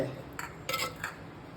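Spoon scraping and clinking against a bowl while curd rice is mixed with coriander leaves, three soft bright strokes spaced across a quiet moment, close and gentle with no talking.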